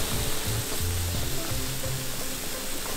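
Food sizzles and crackles steadily on a hot grill pan at a shabu meal, a dense frying hiss with small pops, close and moderately loud, no voices.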